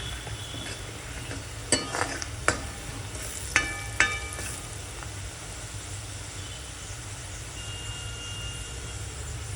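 Onion with chilli powder, coriander powder and kitchen king masala stirred in a pan for a drumstick vegetable curry, giving a steady low frying hiss broken by a few sharp spoon scrapes and clinks.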